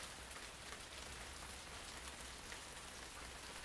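Steady rain falls on a garden as a dense, even hiss of drops. It is continuous and fairly faint, with no voices.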